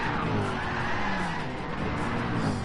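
A race car spins out at Interlagos in Gran Turismo 7 with traction control off, tires skidding in a loud, continuous squeal over engine roar that holds steady throughout.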